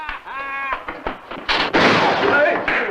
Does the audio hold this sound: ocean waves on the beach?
no